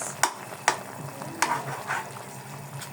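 Chicken wings frying in a pan, a steady sizzle with a few sharp clinks of a utensil stirring against the pan, close and moderately loud, no talking.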